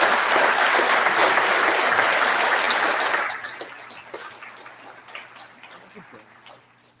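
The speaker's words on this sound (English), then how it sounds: "Please join me for a round of applause for the group of graduates." Dense applause from a graduation convocation audience for a group of engineering graduates, loud and steady for about three seconds, then thinning into scattered claps and fading out.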